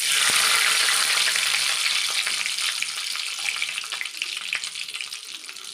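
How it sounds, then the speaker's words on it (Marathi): Mustard seeds spluttering in hot oil in a pan, a dense, bright crackle and popping hiss that stays loud and close throughout and eases slightly toward the end, no voices. "मोहरी आता छान अशी तळतळलेली आहे"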